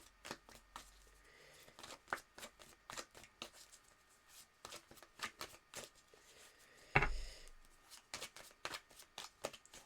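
Tarot cards are shuffled for a reading in quick, crisp riffling bursts close to the mic, with one sharper thump of the deck near the end and otherwise little else in the background.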